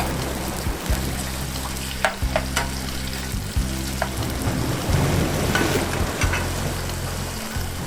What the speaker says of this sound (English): Start frying the mushrooms.